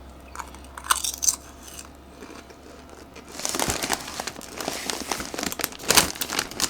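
Lays Salsa Fresca potato chips crunched and chewed close up, a few sharp bites followed by a longer stretch of dense, crackly chewing with bag crinkles.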